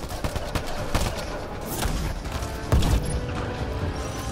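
Rapid gunfire from Mass Effect Andromeda, a dense stream of overlapping shots and impacts with a heavier burst near the end, loud and close throughout with no clear talk.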